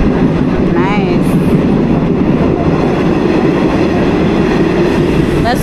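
Passenger train on Uganda Railways rumbling along the track, a loud, constant roar of wheels and carriage noise heard from on board, with a faint brief squeal partway through.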